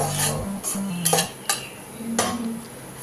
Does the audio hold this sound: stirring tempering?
yes